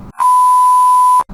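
A single steady electronic beep from the keypad of a 2016 Mitsubishi Mirage's in-car phone system as a number is dialed, one clean tone lasting about a second, loud and close, with brief bits of talk just before and after.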